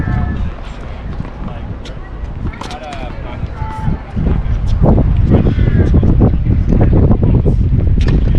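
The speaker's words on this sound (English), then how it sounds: "The sudden gusts really impacted my game." Gusty wind buffets the microphone on an outdoor tennis court, roaring in bursts and growing steadily louder in the second half, with brief ball and footstep sounds mixed in.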